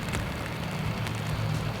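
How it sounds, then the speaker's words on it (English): Steady, dense rain patters on a surface during a storm on the Colorado River in Glen Canyon, a continuous hiss with no voices, close and fairly loud. "It has rained pretty much all day."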